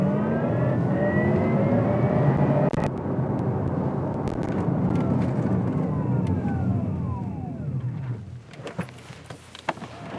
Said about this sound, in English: Caden, you can hear the power of the car, and it's this really cool electric rumble